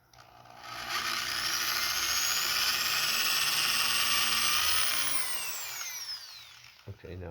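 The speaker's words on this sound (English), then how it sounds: "possibly drill a pilot hole, a very small hole in first" A small power drill whirs steadily at high pitch for about four seconds, drilling a small pilot hole, rising slightly before spinning down, with a brief clunk at the end.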